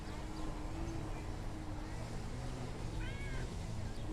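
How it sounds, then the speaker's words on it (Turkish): A cat meows once, clear and fairly close, over a constant engine-like rumble and broadband background noise. "keşke bunun gibi miyavlasa"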